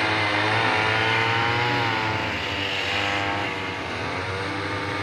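Grass-cutting machines worked by four people on a slope above an avocado garden, a continuous droning engine whine that fills the scene, steady and fairly loud with no talk.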